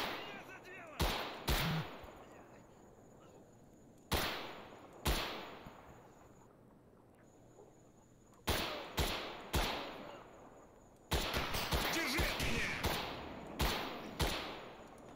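Gunshots from a scoped rifle in the game STALKER, fired in bursts of sharp, loud cracks with ringing tails, some single and some in rapid clusters, spread across a quiet outdoor ambience.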